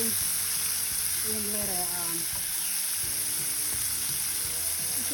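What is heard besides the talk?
spinach sautéing in a pan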